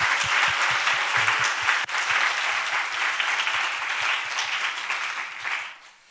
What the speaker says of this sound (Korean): 우리 하나님께 다시 한번 감사의 박수를 드립시다